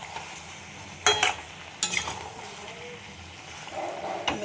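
Chicken pieces sauté in a pan while a spatula stirs them, giving soft sizzling and two short scraping bursts against steady kitchen background noise.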